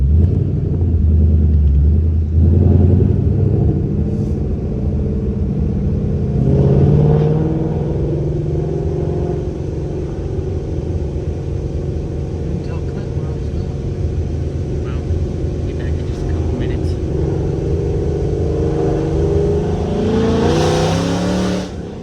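A boosted 800-horsepower Ford Mustang rumbles from inside the cabin, its engine swelling through a few revs and then holding a steady, heavy drone, with people talking over it.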